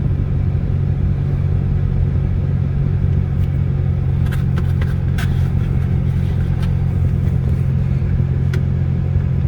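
A 2011 BMW 528i's naturally aspirated 3.0-litre inline six drones steadily with a low rumble while cruising or accelerating on an interstate highway, with faint road noise and a few brief clicks.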